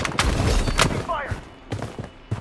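Gunfire in the mobile shooter Blood Strike, several loud sharp shots in quick bursts, close and punchy, mixed with an in-game announcer voice calling out alerts.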